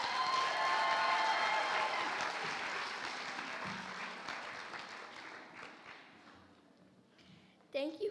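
At a school board meeting, a crowd applauds a hip hop dance group, clapping strongest at the start and gradually tapering off, with a voice beginning to speak as it dies down.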